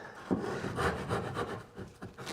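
A hand saw cuts straight down through wood for a dovetail joint, giving a steady rasping stroke rhythm with a sharper bite near the start, close and moderately loud, with no talking.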